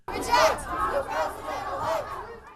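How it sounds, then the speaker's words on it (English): A crowd of angry protesters outside the 58-story Trump Tower in New York, chanting and shouting in rhythmic, rising waves, moderately distant and loud. "And angry crowds gathered once again outside the 58-story Trump Tower."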